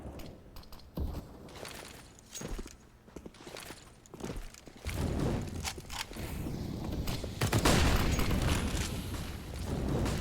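HE grenades bursting on the Mirage map in a Counter-Strike match make heavy booms and rumbling blasts among footsteps and gunfire. The action builds into a dense, loud stretch toward the end.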